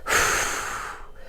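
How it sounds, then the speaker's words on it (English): A single slow exhale through the mouth as a person holds the end range of a seated thoracic rotation stretch, close and clear, fading out after about a second. "Breathing out at end range."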